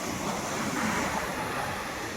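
Sea waves wash onto a beach shore in a soft, continuous rushing hiss, fairly faint and steady, with wind mixed in and no voices.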